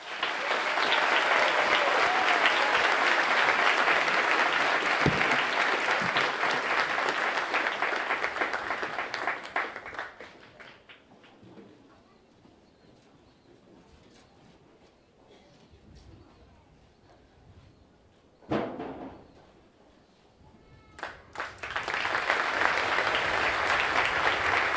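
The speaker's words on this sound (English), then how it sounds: "Please join us in a round of applause for our retirees and their families." An audience at a US Army ceremony at Fort Jackson applauds retirees and their families, loud dense clapping that fades out, leaving quieter sounds and a speaking voice before a brief burst and the applause swelling again.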